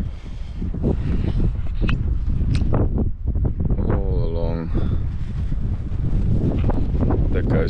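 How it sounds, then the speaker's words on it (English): Cold wind buffets the microphone on the coast at Lambertsbaai, South Africa, a loud continuous roar with gusty rustling, while a person talks over it. "It is a cold one. It's windy."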